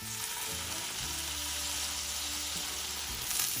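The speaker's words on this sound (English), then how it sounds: "I'm going to take the spatula and gently get underneath and flip it" A waffle grilled cheese sandwich sizzles steadily in a hot pan, frying crackle filling the whole stretch while a spatula slides underneath and flips it, with a brief scrape near the end.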